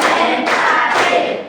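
Students in a class clap in unison in a steady rhythm of three loud group claps about half a second apart, with the last one trailing off.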